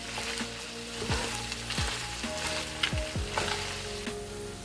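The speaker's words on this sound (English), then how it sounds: "I'm gonna add these mixed frozen veggies. Just give it a nice stir around." Mixed frozen vegetables and ground pork stir-frying in a pan, a steady close sizzle with a few scraping strokes of a spatula and low downward-sweeping tones running through it.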